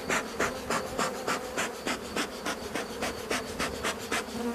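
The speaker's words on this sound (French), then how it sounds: "On arrive dans la ruche. Il y a encore beaucoup de monde dans la ruche." Dense buzzing of many honeybees inside an open hive during swarming, a steady drone with regular pulsing surges, close and loud with no voices.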